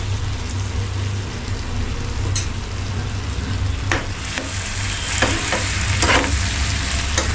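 Masala pav bhaji vegetables sizzle in a pan while a spatula stirs them, giving a dense, rain-like crackle with several sharp scraping strokes near the end, and no one talks.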